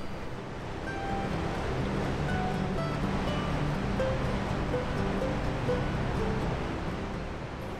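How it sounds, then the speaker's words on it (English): Steady broadband roar of Niagara's Horseshoe Falls, the largest of the three Niagara waterfalls, a continuous rushing wash of falling water heard from nearby and holding even throughout. "These are the Canadian or Horseshoe Falls, which is the largest of the three waterfalls that make up the Niagara Falls."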